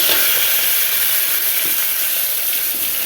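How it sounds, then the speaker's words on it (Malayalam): Chopped shallots, large onions, garlic and ginger fry in hot oil while being stirred, a dense steady sizzle filling the whole stretch with faint scraping of the spoon, no voices. "ചെറിയ ഉള്ളിയും വലിയ ഉള്ളിയും സവോ സവോളയും പൊട്ട വെളുത്തുള്ളി ഇഞ്ചി എല്ലാം ഇളക്കി കൊടുക്കാം"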